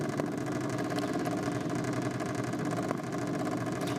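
A Junior Dragster with a single-cylinder side-valve engine runs trackside at a Top Fuel drag racing event, giving a steady mid-pitched idling chug with a fast, even pulse. No voices over it.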